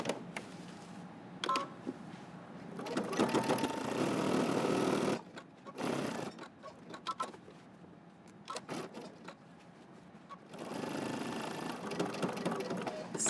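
A sewing machine stitches a jacket seam in several bursts of rapid mechanical whirring, close up, separated by short pauses and a brief backstitch.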